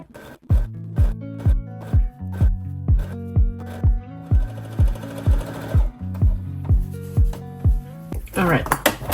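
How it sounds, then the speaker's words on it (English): A sewing machine stitches a skirt waistband in rapid repeated runs, each a loud rhythmic whirring burst with short pauses between, close and clear with no talking over it. "I am going to sew this together, and I'm then going to fit it into the waistband before I attach the waistband to the skirt."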